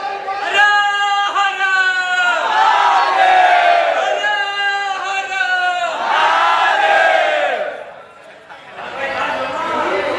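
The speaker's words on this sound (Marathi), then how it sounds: "शिवनामाचा जयघोष हा बघा चालू आहे हर हर महादेव" Devotees in a temple queue at Trimbakeshwar chant a Shiva slogan together, a loud rhythmic call-and-response of massed voices rising and falling in repeated phrases, with a brief dip before the chant resumes.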